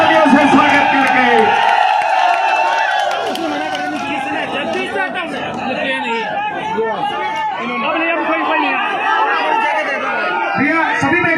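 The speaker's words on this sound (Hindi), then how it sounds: "सभी जोरदार तालियों से स्वागत करके" A large open-air crowd at a night political rally in rural Alwar, Rajasthan, claps, cheers and whoops to welcome an advocate onto the stage. The dense, loud din of chatter and applause runs steadily throughout.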